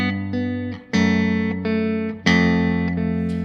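A sustained chord voicing, the natural 6th chord, rings out over a steady low bass note, struck three times with the harmony shifting smoothly, loud and clear with no talking.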